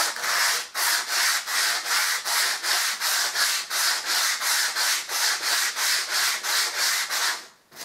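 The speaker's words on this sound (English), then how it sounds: "And then using your smaller piece of sandpaper," A small piece of sandpaper rubs back and forth along a skirting board, giving close, steady, rhythmic scratchy strokes about three per second that run continuously, then stop near the end.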